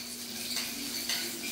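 Corn, cilantro, salt and black pepper being stirred into a corn remoulade in a bowl for crab cakes, a steady soft scraping and clinking of a utensil against the bowl, with light sizzling of cooking food in the background.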